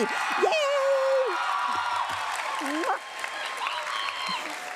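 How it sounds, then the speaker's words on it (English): Audience applause and cheers for choir student Kaylee Clark at a school awards ceremony, a steady wash of clapping with whoops and a few raised voices throughout. "Let's applause for Kaylee"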